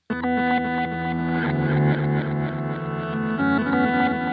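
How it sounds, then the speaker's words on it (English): Electric guitar played through a Chase Bliss MOOD pedal, its delay feeding the micro looper, giving a dense, distorted, layered wash of chorused, echoing tones that sustains continuously without a break. "you hear the delay is actually hitting the micro looper and it's affecting my guitar as well."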